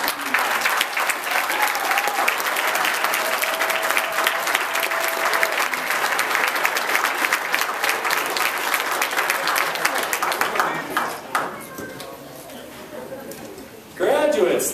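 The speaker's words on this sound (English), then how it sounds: "give a round of applause to your families and friends" An audience claps in sustained applause at a graduation ceremony, holding for several seconds, then thinning out as a voice comes in, before a brief final burst of clapping.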